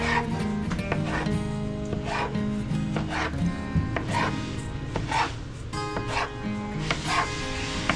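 Dough for Bengali khaja sweets is cut to size in a small home-products factory in Osargaon, making a series of sharp, fairly regular knife chops against a board over a steady machine hum.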